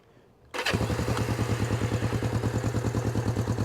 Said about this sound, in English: So we know that the starter motor is good.